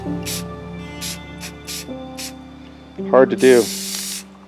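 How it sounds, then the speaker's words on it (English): Satin spray paint sprayed from an aerosol can onto a woodworking project, a few short hissing bursts followed by a longer, louder spray, with a voice talking briefly over steady background hum. "I'm gonna do the satin, see what we get. I'm gonna try very light mist of the paint."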